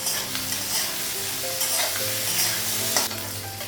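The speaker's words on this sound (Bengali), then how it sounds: "পেঁয়াজটা আর আলুটা একটু ভেজে নেব" Onion and potato fry loudly in a hot pan, a continuous close sizzle with occasional stirring scrapes.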